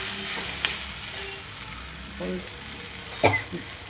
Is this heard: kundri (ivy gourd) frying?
yes